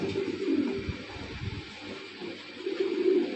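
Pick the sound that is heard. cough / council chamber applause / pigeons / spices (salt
pigeons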